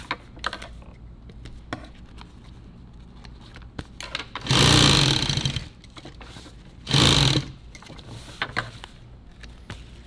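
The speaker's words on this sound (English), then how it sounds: "He just sewed that and didn't sew a line through the middle of the 3-inch" Sewing machine stitching nylon tactical gear, two sustained bursts of whirring stitching a few seconds apart, fairly close, with light clicks and handling noise between them.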